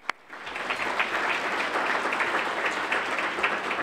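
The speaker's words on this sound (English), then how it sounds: "A round of applause for Sign Design." A room of attendees at a chamber of commerce small business awards gives a short burst of applause for an honored local sign company, the clapping rising quickly and holding as a steady, even wash.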